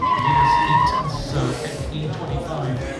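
Tires skid and squeal in a racing simulator at a fan zone, a loud sustained screech with engine roar, mixed with crowd noise and voices throughout.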